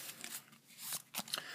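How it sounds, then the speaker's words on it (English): A Yu-Gi-Oh card deck being shuffled by hand, heard close and soft as a quick series of riffling and sliding card noises, with no talking. "Then I'll shuffle this up"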